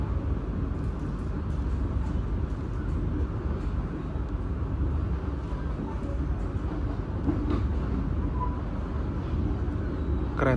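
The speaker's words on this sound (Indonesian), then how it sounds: "Nanti kereta api tambahan yang saya naiki akan berbelok ke arah kanan ya." Passenger train running near Kroya station in Java, a steady loud rumble of wheels and carriage noise throughout, with faint rail clatter and no clear talk.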